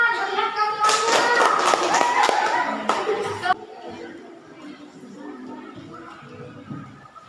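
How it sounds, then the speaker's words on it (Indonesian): A classroom bursts into a short round of lively clapping from many students. It cuts off sharply after a few seconds and gives way to quieter room murmur and shuffling. "Tepuk tangan"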